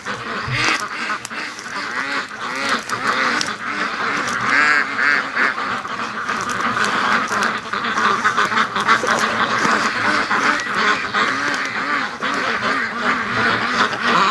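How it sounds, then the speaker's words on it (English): Free-range ducks with a gray goose and a white goose gather near a lake, a busy chorus of quacks and honks going on nonstop, close and loud, with no talking. "There's a gray one and a white one with this group. But look at these silly ducks."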